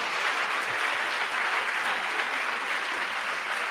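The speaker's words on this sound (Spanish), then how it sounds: "dale un aplauso a eso" Audience applause after a talk with youth and author Mónica Lavín, steady even clapping heard at a distance, soft and sustained for several seconds.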